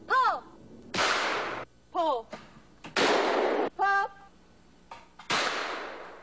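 Three sharp, loud shotgun blasts at a clay-shooting session, each with a short decaying tail, spaced between shouted calls from people nearby.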